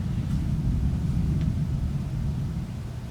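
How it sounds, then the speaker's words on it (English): Low, continuous thunder rumbles outside as a broad, steady roar that fades slightly toward the end, with no voices over it. "It's thundering out there."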